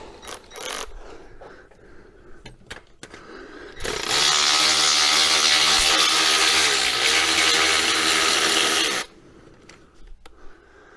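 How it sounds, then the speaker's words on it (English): A power ratchet works on the cylinder head bolts of an MGB, sounding as one loud, continuous mechanical whir and grind of about five seconds, with faint clanks of tools before and after. "We'll get our power ratchet on."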